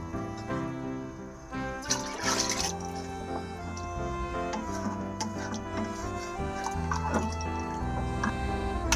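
Coconut milk and water pour into a cooking pot for chicken biryani, giving soft, intermittent splashes and drips that are quiet and close, with no talking.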